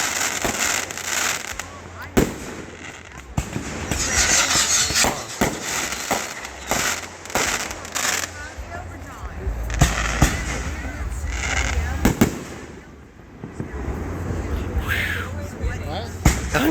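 A fireworks show bursts in repeated loud explosions and sharp cracks at irregular intervals, some booming deep and others snapping, with crackling tails between blasts and people talking intermittently underneath.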